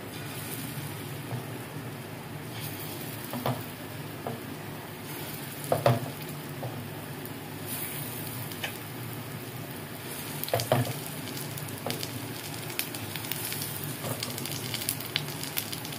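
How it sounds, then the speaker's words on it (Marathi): Bitter gourd slices shallow frying in oil with a gram-flour coating, a steady soft sizzle with occasional crackles and light pops throughout, no voices. "आता याच्यामध्ये आपल्याला एक एक कारलं असं टाकून शालू फ्राय करून घ्यायचं आहे."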